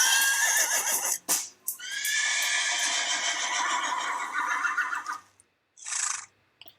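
A horse whinnies loudly in a long, shaky neigh, then breaks off; a brief snort follows after a short pause.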